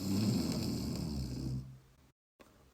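A person imitates a sleeper's snoring with their voice, one long continuous rasping snore lasting about two seconds, close and fairly loud, fading out before a brief pause and a faint restart.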